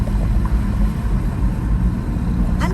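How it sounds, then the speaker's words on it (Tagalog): A loud, steady motor engine drones throughout with a heavy low rumble, close and continuous, with no voices, on a road near Los Baños. "Ingay naman ang motor dito. Kailangan ba talagang maingay ang motor?"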